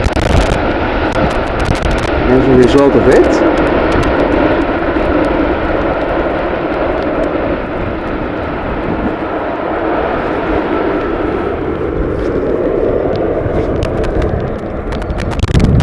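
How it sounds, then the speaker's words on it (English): Loud, sustained jet roar from an airliner landing on runway 18R at Amsterdam Schiphol in rainy, windy weather as its thrust reversers engage, throwing spray, swelling and rumbling throughout, with a brief muffled voice. "Nice application of the thrust reversers and a beautiful spray"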